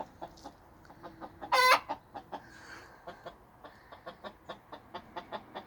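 A Welsumer hen, an ex-commercial laying hen in a small backyard flock, clucks in a steady run of short, evenly spaced notes with one louder squawk near the start, all close by and with no talk.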